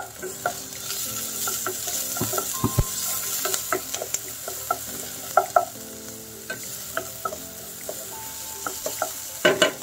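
White onion and minced garlic sautéing in olive oil in a pan, a steady close sizzle punctuated by frequent clicks and scrapes of a stirring utensil.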